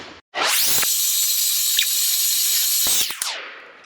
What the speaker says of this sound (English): Now we can stick it on the real bandsaw.